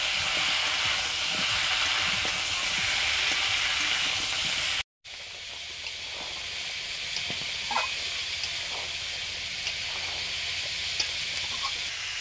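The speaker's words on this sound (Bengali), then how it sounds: "ফুলকপিগুলো ভেজে নিচ্ছি। লবণ দিয়ে ভেজে নিচ্ছি।" Cauliflower pieces fry in oil with salt, giving a loud, steady sizzle and hiss that cuts out briefly partway through, then resumes slightly quieter with small pops.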